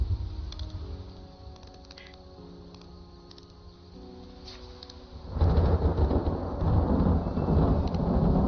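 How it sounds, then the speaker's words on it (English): Thunder rolls in the Skyrim video game as a low, rumbling swell that grows suddenly louder partway through and stays heavy to the end, with faint game music and clicks beneath it before the rumble. "Thunder."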